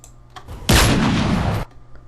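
A single gunshot sound effect at its original pitch in Sony Vegas Pro bursts in loud and full-bodied, holds for about a second, then stops sharply, leaving faint background hum.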